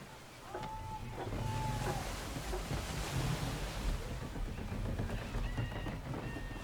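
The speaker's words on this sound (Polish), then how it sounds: "Gusty winds can be difficult to manage." Gusty wind and waves rush around a sailing ship in the video game Assassin's Creed III, a loud, continuous roar with a few brief tonal sounds over it.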